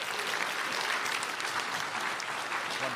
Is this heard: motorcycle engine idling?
no